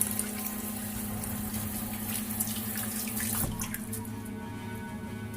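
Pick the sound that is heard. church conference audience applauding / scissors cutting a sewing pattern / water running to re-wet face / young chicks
water running to re-wet face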